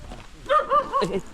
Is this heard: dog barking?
yes